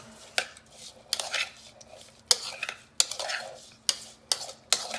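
Shrimp tossed with seasoning mix for a Mediterranean-style sauté with zucchini, a utensil scraping and clinking against the bowl or pan in repeated sharp strokes, close and fairly quiet, with no talking.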